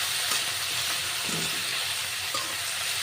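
Eggplant pieces frying and being stirred in a pan with onions, a steady close sizzle with scraping stir strokes throughout and no speech.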